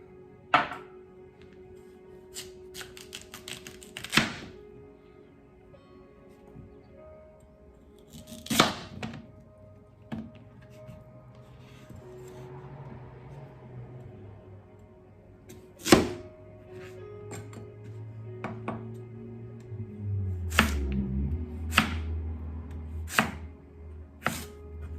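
A knife chops sweet potatoes on a cutting board, sharp isolated thunks spaced several seconds apart with a few quick bursts, close and clear over quiet kitchen hum.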